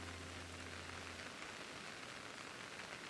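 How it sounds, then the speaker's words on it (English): Steady rain falling on a surface, a dense, even hiss of drops that holds constant throughout with no voices. "Love the rain."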